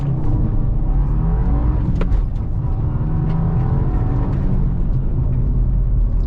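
A 2022 Subaru WRX with four-wheel drive launches hard from a standstill on a slight hill, held on the handbrake at 5,000 RPM, its engine roaring loud and steady from inside the cabin throughout.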